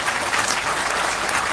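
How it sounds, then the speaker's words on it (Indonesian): Sustained audience applause at a gathering, steady and dense clapping from a large crowd filling the whole moment without any talk over it. "Tepuk tangan untuk Pak Muzamil."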